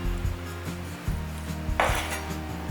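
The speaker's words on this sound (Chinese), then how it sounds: "把豆腐切成片" A knife slices tofu on a cutting board, making a few soft taps and thuds against the board over a steady low hum.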